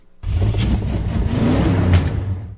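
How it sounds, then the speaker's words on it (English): An engine catches and roars to life, then revs loudly and steadily for a couple of seconds before cutting off. "the sounds of the car starting up at the beginning of the show"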